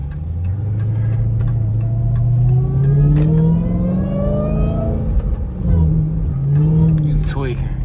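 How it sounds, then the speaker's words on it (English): A car engine heard from inside a Dodge Hellcat climbs and revs through rising, sweeping tones while driving at night, loud and continuous, with people talking over it. "car coming."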